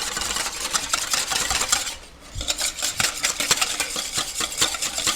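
A utensil scrapes and clinks steadily around a bowl while tempura batter with baking powder is stirred by hand, heard close in a quick, rhythmic, scratchy pattern.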